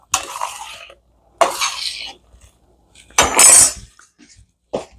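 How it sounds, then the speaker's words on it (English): Noodles for a tuna salad being stirred in a bowl, with three or four bursts of scraping and clinking utensil-on-bowl sounds separated by short pauses, close and fairly loud, with no talking. "I'm going to stir my noodles again."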